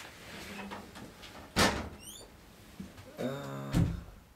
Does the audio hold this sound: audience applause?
no